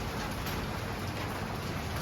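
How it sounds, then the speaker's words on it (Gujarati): Steady rain falls continuously and fairly loudly, a dense even wash of patter with no voices, at a rural spot where livestock are being handled. "વરસાદનો અવાજ આવતો હોય છે."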